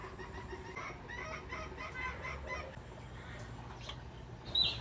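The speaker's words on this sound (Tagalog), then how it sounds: "At bigla nga sumilip ang pato at itong iba pang mga manok sa kabila." Chickens and a duck cluck and quack in a busy, low-level chorus of poultry, steady throughout with a brief louder squawk near the end.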